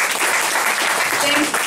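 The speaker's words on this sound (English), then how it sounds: "Round of applause for our great speaker." Brief, loud applause from an audience after a Q&A session, a dense wash of clapping across the whole moment, with a voice speaking faintly beneath it.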